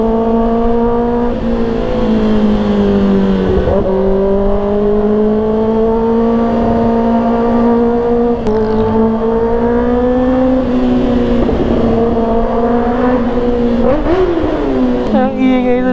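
A loud 2024 Kawasaki ZX6R sport motorcycle engine revs and drones steadily throughout during a break-in ride, with pitch rising and dipping in several surges, close and continuous.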